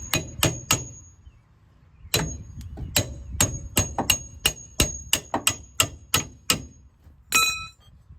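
Sharp hammer blows ring against metal while a 1970 Ford Falcon 9-inch rear end is installed, about fifteen loud, close strikes in quick uneven bursts with short pauses between groups and a brighter clang near the end.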